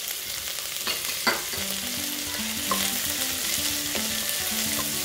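Chopped onion and garlic frying in a pan for chili con carne, giving a loud steady sizzle with occasional soft scrapes from stirring.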